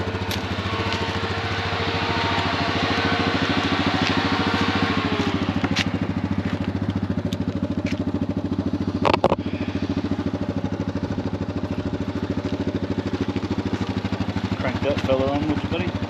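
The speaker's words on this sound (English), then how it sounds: "Right, we'll turn the Viking on" A Yamaha Viking side-by-side's engine idles steadily close by, a continuous mid-pitched rumble with occasional clatter and a brief knock partway through.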